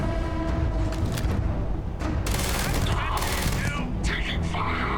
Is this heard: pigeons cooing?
no